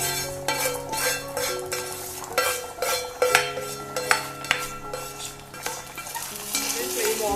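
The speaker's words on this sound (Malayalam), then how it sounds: "ഇനിയും ആ കടുക് വറുത്ത് കൂട്ട് ഇതിനകത്തോട്ട് ഇട്ട് കൊടുക്കാം" Fried mustard seed tempering hits a pot of ash gourd curry, with a quick sizzle followed by stirring and the clink of a metal spoon against the pan, close and clear with no talk.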